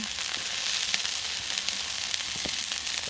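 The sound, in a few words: Firecracker chicken dumplings frying on a Blackstone griddle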